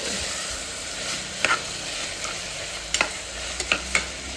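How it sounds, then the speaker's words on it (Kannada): Tomatoes fry in a pan with a steady, close sizzle, while a utensil stirs them and strikes the pan with several sharp scrapes and clinks at irregular intervals. "ಇಲ್ಲಿ ಟೊಮೊಟೊನೂ ಅಷ್ಟೇ ನಾವು ಚೆನ್ನಾಗಿ ಫ್ರೈ ಮಾಡಿದ್ರೇ ತುಂಬ ಚೆನ್ನಾಗಿ ಟೇಸ್ಟ್ ಬರೋದು."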